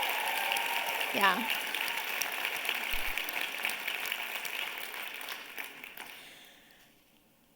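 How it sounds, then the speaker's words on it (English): An audience at a business seminar claps in a sustained round of applause, with a short shout rising above it early on, then the clapping thins and fades out near the end. "So just one more round of applause for them."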